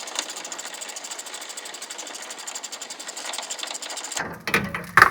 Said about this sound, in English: use a 15 millimeter socket, ratcheting, wrench, whatever you want, to remove the nuts, the two nuts up top